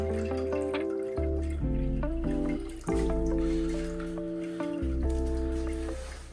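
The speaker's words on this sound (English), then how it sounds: "we're just straining this out. We don't want the rice. We just want that murky water that's in there." Fermented rice water strained through a strainer, leaving the rice behind and keeping the murky liquid, makes a close, continuous dripping and trickling with shifting pitched tones throughout.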